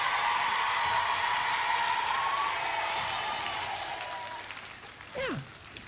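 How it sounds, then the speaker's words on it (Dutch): Parents applaud on a patio at a riding-horse show, a soft, even wash of clapping that fades over about four seconds before a short voice cuts in. "Een groot applaus van alle ouders hier op de patio, toch?"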